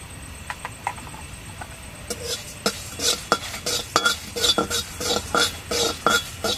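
Whole coriander, cumin and fennel seeds dry-roasting in a pan for amla pickle spice, with sharp, irregular clicks and pops that grow denser and louder midway, over a quiet stirring hiss and no talk.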